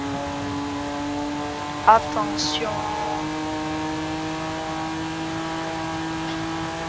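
Steady car engine drone in Forza Horizon 5, a won car cruising with a brief louder burst of sound early on, while a person talks briefly.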